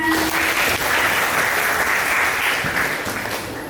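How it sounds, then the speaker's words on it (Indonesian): Students and teachers from a vocational school applaud together during a company visit, a loud, dense, continuous wash of clapping that fades slightly near the end. "Tepuk tangan untuk kita semua"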